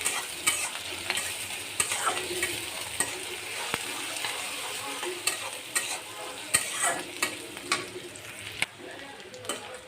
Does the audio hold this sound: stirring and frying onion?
yes